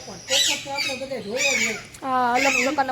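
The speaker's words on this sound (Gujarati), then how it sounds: "આ પોપટ તો તમે બધે જોયા જ હશે" A parrot at Junagadh's Sakkarbaug zoo squawks and chatters close by in a series of harsh, nasal calls, three main bursts with short gaps between them.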